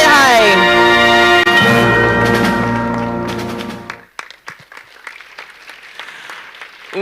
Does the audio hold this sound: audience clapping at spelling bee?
yes